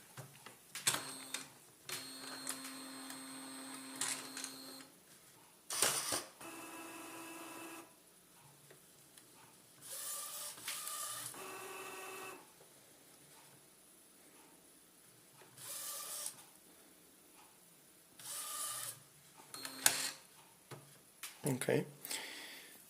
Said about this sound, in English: check if the printer is working. So we can turn it on